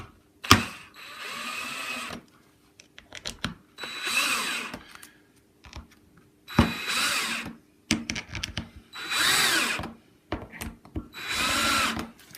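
A power drill drives screws into a custom Telecaster guitar body in five or six loud, close whirring bursts, each lasting about a second, separated by short pauses and light handling clicks.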